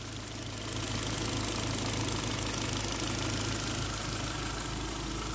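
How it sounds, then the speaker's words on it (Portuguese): A quiet GM Zafira engine idles with its fuel injectors working, a soft rapid ticking over a smooth, even hum heard close up and alone. "Escutem um barulho aqui dos bicos injetores trabalhando."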